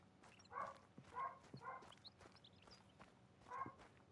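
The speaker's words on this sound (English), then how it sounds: "I'm sure you can hear my puppy has awoken from her nap, and she is not pleased with her current situation, which is in her crate" A puppy shut in her crate gives four faint, high whimpering yelps spread unevenly over a few seconds, heard from a distance against a quiet room with light knocks and shuffles.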